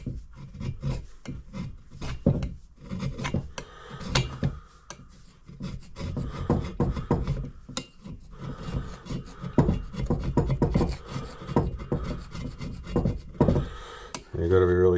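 Rasping, rhythmic scraping of baked-on gasket material from an aluminum surface, close and fairly loud, in repeated quick strokes with short pauses between passes.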